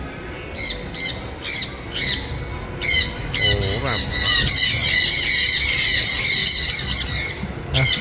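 A parrot squawks repeatedly in loud, shrill bursts, then lets out a long, sustained screech, with a person speaking briefly underneath.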